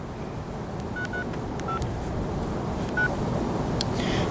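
Dial tones beep faintly as a phone number is keyed, a handful of short separate tones sounding over loud steady wind or road rumble, as if heard from inside a moving car.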